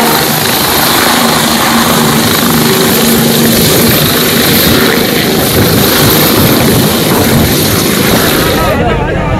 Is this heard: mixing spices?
no